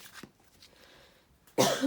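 A short cough, then a louder, harsher cough burst near the end, with quiet room hush in between.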